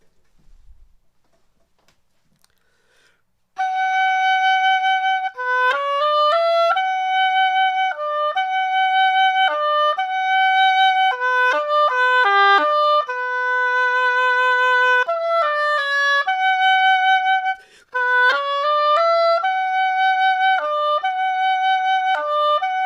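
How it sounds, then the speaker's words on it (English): Solo oboe playing the Swan theme from Tchaikovsky's Swan Lake, a lyrical melody of sustained and moving notes, close and clear, beginning after a few seconds of near silence with one brief pause late on. "This is the Swan from Swan Lake, Tchaikovsky's ballet."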